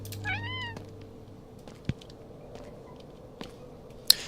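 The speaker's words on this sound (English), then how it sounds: "What are the noises that we're hearing though? Ah, stray cat, here you are." A stray cat gives a rising, drawn-out meow up close on a quiet midnight street, followed by sparse faint clicks and a sharp knock near the end.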